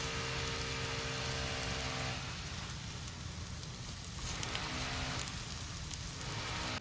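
Eggplant slices fry in a pan with a steady crackling sizzle and scattered pops, close and moderately quiet, with no voices.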